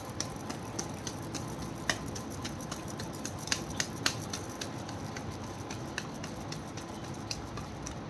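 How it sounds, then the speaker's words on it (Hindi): Tarot cards being shuffled by hand, a steady crisp riffling patter of card edges with scattered sharper snaps, close and continuous, no talking. "This is my last shuffle"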